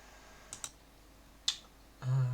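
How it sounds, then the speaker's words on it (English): Computer keyboard shortcuts for copy, paste and enter, heard as a few quiet, isolated key clicks followed by a brief steady tone. "Ctrl C, Ctrl V, click enter."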